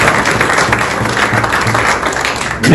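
Sustained applause from a crowd, a dense continuous clapping that stays loud throughout.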